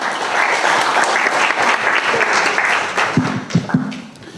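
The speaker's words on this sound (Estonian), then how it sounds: "Aplaus ja palun Raivo." Audience applause at an Estonian public talk about a lake and local hobbies, a dense steady clapping wash that thins out toward the end, with a few louder individual claps and a brief voice near the close.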